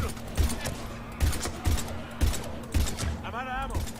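Mass Effect 3 combat with bursts of rapid gunfire in a loose rhythm, sharp close shots layered over game noise, with a voice briefly shouting in between.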